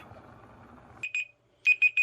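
A kitchen timer alarm sounds near and loud after a low hissing background, giving two quick electronic beeps, a pause, then three more beeps.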